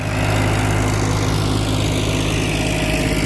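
A Farmtrac 42 Promax tractor engine runs loud and close at steady rpm, a continuous diesel drone with a constant low hum and no pauses.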